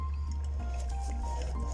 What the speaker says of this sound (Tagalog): Buhos tayo. Galing sa gitna, pagilid.